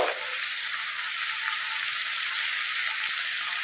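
Spices with salt, turmeric and chili powder fry in a pan for a fish egg curry, giving a steady, bright sizzle that runs unbroken and close throughout, with no voices.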